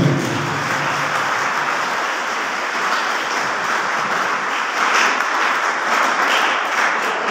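A crowd at a 16 December memorial gathering for the Peshawar APS martyrs gives sustained applause for a staff member, a dense, even wash of clapping that carries steadily throughout without talk.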